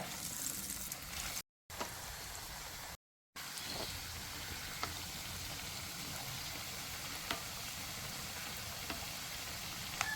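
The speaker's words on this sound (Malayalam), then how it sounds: "നമ്മുടെ എണ്ണ നന്നായിട്ട് ചൂടായിട്ടുണ്ട് അപ്പോൾ ഇട്ട് കൊടുക്കാം" Banana and bread fritters sizzle steadily in hot oil, a dense continuous crackle with occasional sharper pops, broken by two brief silent gaps.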